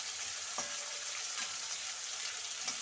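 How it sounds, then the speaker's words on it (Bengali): Rupchanda fish and potatoes fry in a pan with a soft, constant sizzling hiss. A few faint stirring scrapes come through, and there is no talk. "আর এটা একটু ভাজা ভাজার মতো হয়ে যাক।"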